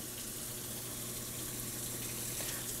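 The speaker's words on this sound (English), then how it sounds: "we have some vibration, so it does appear as if we have some hot water entering" Hot water flows into the tub of a Frigidaire Gallery top-load washing machine in test mode, a steady hissing rush of filling water with a low hum underneath, faint and continuous.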